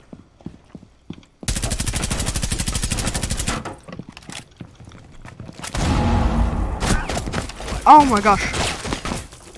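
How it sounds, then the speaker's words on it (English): Rapid automatic gunfire from a video game rings out in a sustained burst, followed by more scattered shots and impacts, with players talking excitedly over the action. "Where are they shooting?"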